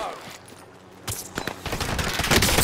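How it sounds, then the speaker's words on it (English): Gunfire in a first-person shooter: a sniper firing from inside a building, sharp cracks followed by a burst of rapid shots building in loudness, with faint player chatter around it. "Somebody sniping from inside."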